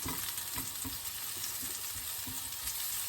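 Cauliflower mushroom (sparassis crispa) with shallot frying in a pan over lowered heat, a soft steady sizzle with small crackles and a few stirring knocks, close and alone.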